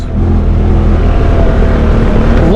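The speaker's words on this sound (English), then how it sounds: "This engine just purrs." A Honda Talon side-by-side's engine idles and runs steadily up close, a loud, even low rumble with harmonic drone, rising slightly in pitch near the end as it revs.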